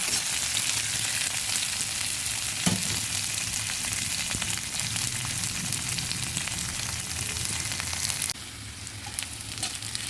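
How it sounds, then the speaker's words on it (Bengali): Chopped onion and garlic sizzle steadily in hot oil in a pan while being stirred for a mixed dal, with a few scraping knocks from the spoon. "পেঁয়াজটা কিছুটা ভাজা হয়ে এসছে।"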